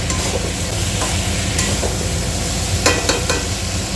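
Spice masala frying in a pan, a continuous crackling sizzle with occasional sharp scrapes and clinks of the stirring spoon, loud and close with no talk.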